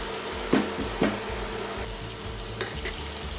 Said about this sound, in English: add our marinated beef, and we're going to get this nicely browned off